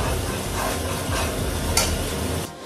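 Marinated prawns, rubbed with salt and turmeric, fry in a wok and are turned from side to side, giving a steady close sizzle with stirring and scraping sounds and no talk.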